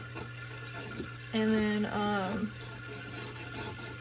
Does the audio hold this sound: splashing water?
yes